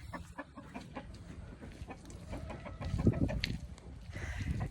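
Hens cluck steadily among chicks on a farm where ducks and chickens are kept, with several soft overlapping clucks and peeps close by and a louder burst of clucking midway, with no talking.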